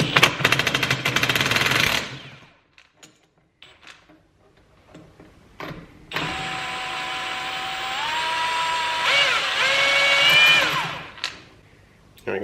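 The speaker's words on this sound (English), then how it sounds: "I'll hit that with the impact real quick." An impact wrench removing a nut from a Honda Grom engine: a loud rattling hammer burst, a pause with small clinks, then a long whining run that rises in pitch before cutting off, all close up.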